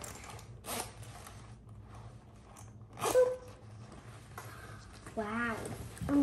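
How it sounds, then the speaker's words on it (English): A backpack zipper is pulled in a few quick rasping strokes near the microphone, with someone talking around it. "This is such an easy zipper."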